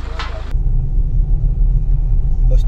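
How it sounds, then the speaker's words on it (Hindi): A 130-horsepower 4x4 four-seater car engine gives a deep, close, steady low rumble after a brief burst of noise at the start, with no one talking. "ये इसका इंजन जो है 130 हॉर्सपावर का है।"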